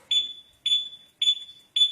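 A Yamaha Mio Soul i 125 scooter's two-way alarm gives four sharp, high electronic beeps repeating at a steady pace, loud and close with silence between each.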